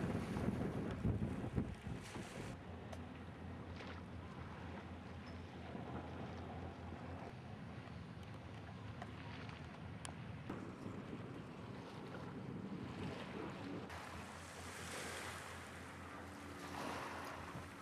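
East Cowes waterfront with ships passing on their way to and from Southampton and a breakwater under construction: faint low rumble of passing vessels under steady wind buffeting the microphone and soft wash of waves.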